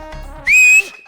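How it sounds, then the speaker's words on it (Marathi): A person blows a sharp, shrill whistle on a TV game show stage, one short loud blast of about a third of a second, following a brief murmur of background sound. "शिट्टी कोण वाजवणार?"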